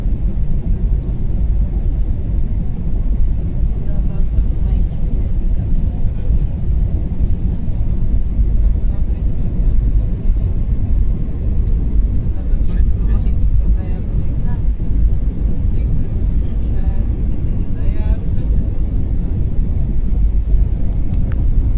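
An airplane lands on a flight from Barcelona to Romania, heard from inside the cabin as a loud, steady engine and airflow roar that lasts the whole time.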